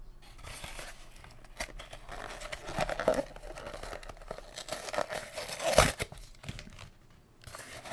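A Magic: The Gathering Time Spiral booster pack is torn open close up, with crinkling foil wrapper, rustles and tearing. One sharper rip stands out near the end, and nobody speaks.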